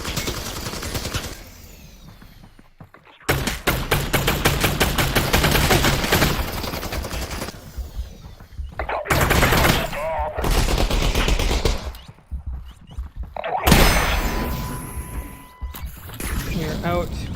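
Loud, close gunfire in the VR game Half-Life: Alyx, with rapid automatic bursts and single shots in several clusters separated by brief pauses, plus some speech.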